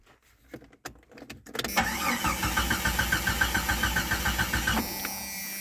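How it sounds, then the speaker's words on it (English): A Jeep XJ engine cranks but fails to start: a few short starter bursts give way to a steady, loud, rhythmic cranking drone lasting several seconds before it cuts off. "It won't start. Now it'll crank,"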